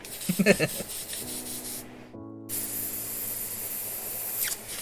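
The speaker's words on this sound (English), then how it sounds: "So, clean out the old airbrush again." An airbrush is cleaned out by spraying through it, giving a steady, close hiss with a low mechanical hum that cuts off briefly and then resumes, with no talking.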